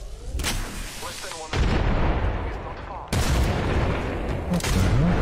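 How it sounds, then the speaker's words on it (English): Grenade blasts in a first-person shooter video game land in quick succession, two heavy booming bursts that each leave a long, loud rumbling roar behind them. "What is he throwing at you? Dude, like three grenades"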